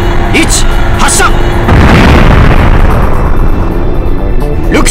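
A launch blast and explosive impact from the PS3 game Galaxy Angel II roar out loud and close, swelling into a dense, rumbling burst that slowly thins and fades over several seconds.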